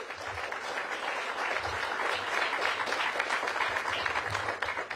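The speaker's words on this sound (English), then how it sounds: "Give yourselves a round of applause." A crowd at an outdoor groundbreaking ceremony for the Fort Lincoln recreation center and early childhood education center breaks into sustained, dense applause that holds steady for several seconds.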